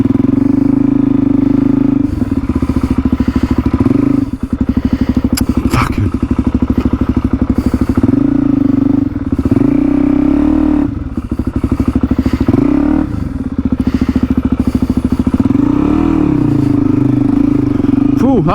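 Suzuki DRZ400E dirt bike engine revving hard with its rear wheel stuck in mud, loud and close, with repeated rising and falling throttle surges, clatter and thumps throughout.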